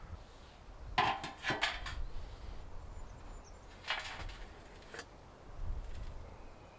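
A shallow dish holding crushed burnt wood is handled, giving several light clinks and scrapes in two clusters with soft thumps between, close and quiet over faint background noise.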